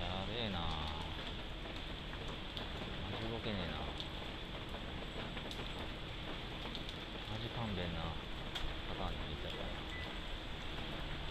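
Heavy typhoon rain pours steadily and close by, a dense continuous wash of drops drumming on surfaces throughout, with someone talking over it at intervals.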